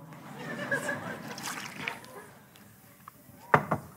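Water poured at a table, a soft splashing, sloshing trickle heard close by among voices, ending in a couple of sharper splashes.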